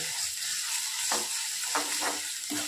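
Goat head and brain curry with ginger paste sizzles steadily in a frying pan, with several scraping stirs of a spoon coming through the hiss, close up and without talk.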